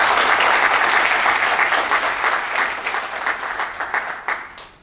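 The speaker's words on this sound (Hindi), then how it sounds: "तो जोरदार ताली होनी चाहिए इस चीज के लिए।" An audience applauding at a store meet in Indore, a dense, loud wash of clapping that carries on steadily for several seconds and then thins out toward the end.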